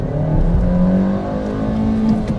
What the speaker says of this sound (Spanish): Ahora voy a comprobar el desempeño y la aceleración del nuevo Nissan March